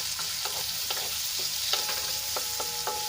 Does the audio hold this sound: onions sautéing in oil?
yes